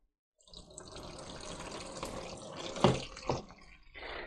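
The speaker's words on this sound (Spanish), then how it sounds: "vamos a regar, que queden bien hidrataditas" Water pours onto potted orchids being watered, with a steady close splash and trickle and a couple of louder splashes near the end.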